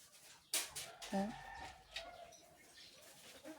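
A heritage chicken clucks a few times close by in a cool outdoor setting, short soft calls over faint background noise.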